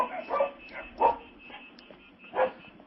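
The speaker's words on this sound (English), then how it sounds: "I got to shut the barking off." A sound-effect dog barks several times, close and mid-loud, with short yipping woofs at uneven intervals and no talking over them.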